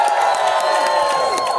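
A church group, children's voices among them, cheers and shouts for Team B during a game, a sustained, loud crowd roar with whoops throughout.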